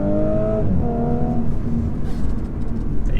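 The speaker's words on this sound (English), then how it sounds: "I'd drive this in dynamic mode just for that engine note" A 2017 Audi S4 in dynamic mode accelerates hard from inside the cabin. The engine note booms and climbs through the revs, then a gear change brings a brief dip before the deep drone builds again over road and wind noise.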